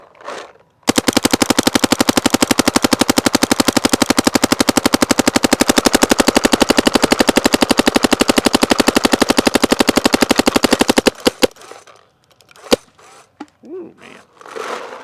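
An Empire Axe 2.0 paintball marker fires .688 paint in a long, rapid, evenly spaced string of loud, close shots for about ten seconds, then a few stray shots and quiet handling noise.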